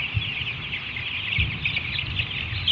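Poultry hens being chased around a coop, giving steady close clucks and agitated cackling calls with a constant shrill chorus and soft thumps of movement, no talking.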